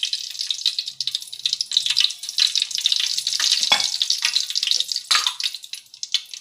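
Mustard seeds crackling and popping in hot oil in a pan while cooking rasam for vada, a dense, continuous close sizzle with irregular sharp spits.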